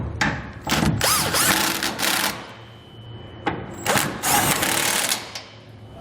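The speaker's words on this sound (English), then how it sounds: "let's take our 21mm socket, go ahead and snug down all of our fasteners" A socket ratchet snugs down trailer hitch bolts on a 2021 Chevrolet Colorado in bursts of rapid clicking, close and loud, with two longer runs separated by a brief pause.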